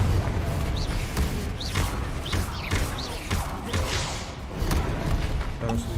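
Spell combat in the video game Hogwarts Legacy: a steady run of thuds, whooshes and crashing impacts layered over a constant game soundtrack, with a voice talking over the action.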